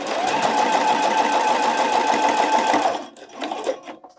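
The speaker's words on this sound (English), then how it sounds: "I'm going to stitch down." A sewing machine stitches down the edge of a bralette in a steady, close, loud whir for about three seconds, then stops, followed by a few soft handling clicks.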